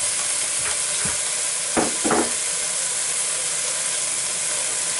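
Potato, carrot, beans and other vegetables sizzle and hiss steadily in a hot pan for egg pulao, with a few brief scraping stirs, close and loud throughout.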